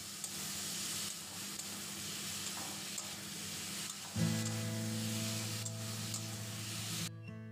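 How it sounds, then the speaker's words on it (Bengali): Prawns tossed into a pan of well-cooked spiced masala sizzle and fry, a steady crackling hiss that jumps louder midway as they hit the hot oil, with some stirring and no talk. "এবার চিংড়ি মাছগুলো দিয়ে দিলাম।"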